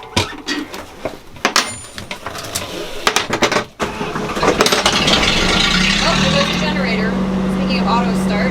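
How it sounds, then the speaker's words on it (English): Aboard a boat, sharp clanks and handling knocks near a John Deere 6068 give way to the generator auto starting, then settling into a steady, loud mechanical hum with a low drone, under some talk. "That is the generator auto starting."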